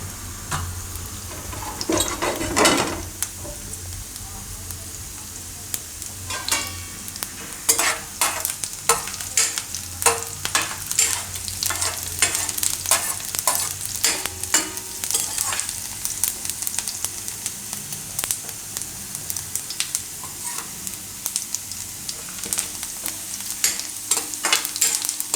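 Mustard seeds and cumin fry in oil for palak makkai khichdi, a continuous close sizzle with sharp popping crackles and repeated stirring scrapes of a spoon against the pan, no speech.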